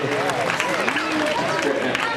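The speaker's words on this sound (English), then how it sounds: "Folks, have a round of applause for Archie." An audience applauds Archie, an animal performer at a Universal Studios animal show, a steady wash of clapping from a crowd, while a presenter speaks over it.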